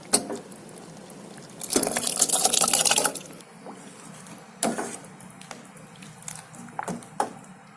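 Cooked lentils are poured into a pot of white pumpkin sambar, a close wet splashing slosh for about two seconds followed by a few softer stirring clunks and liquid sounds.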